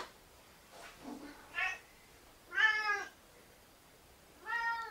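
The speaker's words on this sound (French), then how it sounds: "Viens là, mon chat." A house cat meows several times at irregular intervals, close and fairly clear, with the later calls longer and stronger, against a quiet room with no talking.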